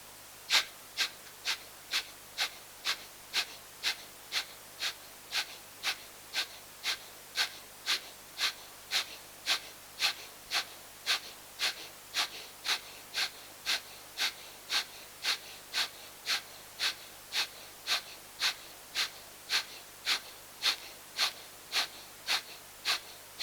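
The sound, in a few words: slow yogic breathing, inhaling and exhaling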